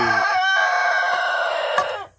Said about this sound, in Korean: 백봉 오골계 수탉과 청계 수탉이 지금 싸우고 있죠